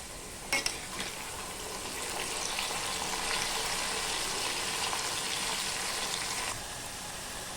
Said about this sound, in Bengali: আমার তেলটা গরম হয়ে গেছে, এবার আমি কচুগুলো দিয়ে দেবো